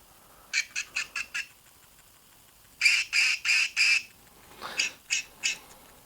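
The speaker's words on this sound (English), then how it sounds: "And it can quack." An electronic toy duck quacks in short synthetic bursts. Groups of four or five evenly spaced quacks come close and clear, with brief pauses between groups and no talking.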